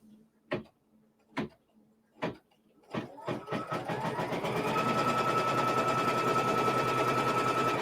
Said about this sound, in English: And now we'll stitch this down.